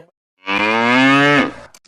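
A single loud, sustained moo from a cow or bull, clear and close, lasting about a second with nothing else around it.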